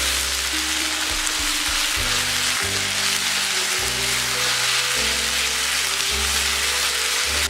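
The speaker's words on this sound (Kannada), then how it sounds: "ಲೋ ಫ್ಲೇಮಲ್ಲಿ ಇಟ್ಬಿಟ್ಟು ನೀವು ಇದನ್ನು ಹತ್ತತ್ರ 2 ನಿಮಿಷ ಚೆನ್ನಾಗಿ ಫ್ರೈ ಮಾಡ್ಕೊಳ್ಳಿ" Ground masala paste frying on a low flame with browned onions for chicken curry, a steady, loud, continuous sizzle with no talking.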